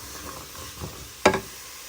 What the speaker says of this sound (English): just frying up some onions